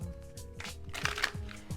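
Tarot cards being shuffled close up, a quick run of soft riffling flutters and papery slaps in a steady rhythm, with no talking over them.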